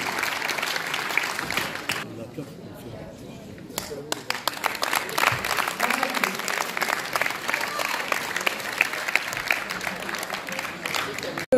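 Audience applause at a sports awards ceremony in Florange honoring young athletes, volunteers and parents, with sustained clapping that dips briefly, then swells into dense, energetic claps, with voices mixed in.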